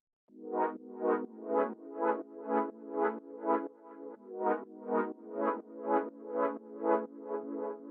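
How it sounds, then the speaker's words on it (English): A synth pad in a lo-fi house track pulses through a two-chord progression, swelling and dipping in an even rhythm of about sixteen beats. The chord changes midway, heard alone and clean with no talking. "The next thing we have here is this pad,"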